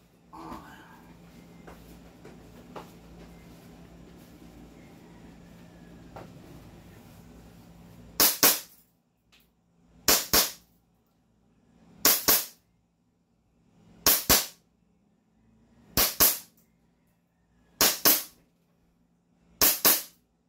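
Test firing of a firearm: seven sharp, loud gunshots spaced about two seconds apart, following a quiet stretch of low room noise and faint voices.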